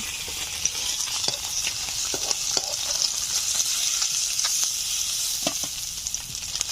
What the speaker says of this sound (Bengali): অনেকটা মাছ ভাজার তেল রয়েছে, এই তেলে দিয়ে দিচ্ছি কেটে ভালো করে ধুয়ে রাখা লাউ